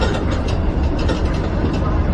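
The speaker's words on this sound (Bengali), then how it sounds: "এটা দেখন্তু গোটে লোকাল ট্রেন আসলা" A local train in Finland rolls into a station with a steady low rumble and faint rhythmic clatter, continuous and moderately loud throughout.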